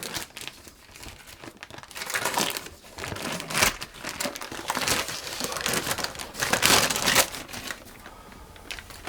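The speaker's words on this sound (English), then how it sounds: "I'm going to unwrap my rectangle of flour dough." Plastic wrap crinkles and crackles as it is peeled off a rectangle of flour dough, close and fairly loud, in irregular bursts with no talking.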